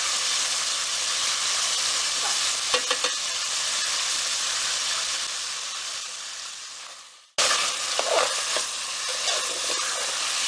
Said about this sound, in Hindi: आपने अच्छी तरीके से बुनाई करनी है, लहसुन की जो ना स्मेल बिल्कुल ख़त्म हो जाए इसकी बुनाई में।